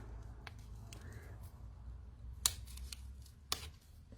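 Scissors snip a flower for a small mixed media canvas, a few sharp, close cuts spaced over a quiet background with a low hum.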